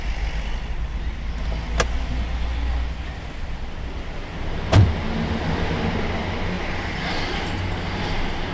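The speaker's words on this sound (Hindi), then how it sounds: "मेरी गाड़ी आ रही है" A car pulls up nearby with a steady low rumble of engine and road noise throughout, broken by two sharp brief clicks.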